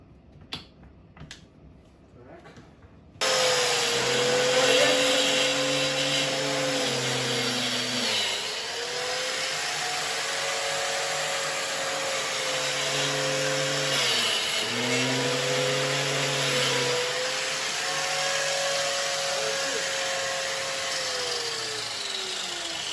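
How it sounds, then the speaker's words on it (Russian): A Zubr wall chaser runs steadily for about twenty seconds alongside a Metabo vacuum cleaner, a loud continuous whine with pitch dipping twice under load as it cuts into a house wall for wiring, after a few quiet clicks at the start. "Подключаем пылесос."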